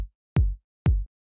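Soft analog-style kick drum sample with a gentle transient and smooth low body, struck three times at an even pace, each thump decaying quickly into silence.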